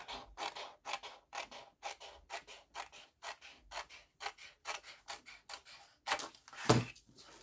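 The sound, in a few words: cutting a piece of paper for a rosette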